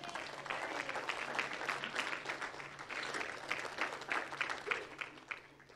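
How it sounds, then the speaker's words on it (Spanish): A church congregation applauds steadily, dense clapping sustained throughout at a moderate distance. "De un aplauso al Señor."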